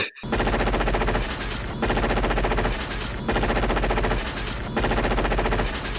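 Sustained automatic gunfire from a firefight in the action film Predator, a dense, loud continuous rattle of machine-gun bursts lasting several seconds with brief dips between volleys, no talking over it.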